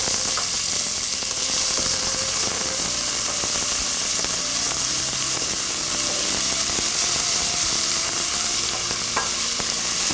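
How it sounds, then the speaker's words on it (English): Chopped onions sauté in a hot pan for a paneer and mushroom Madras curry, giving a loud, steady sizzle with scattered crackles and occasional stirring scrapes. No voices are heard. "In goes some chopped onion. We're going to saute these onions until they're golden brown."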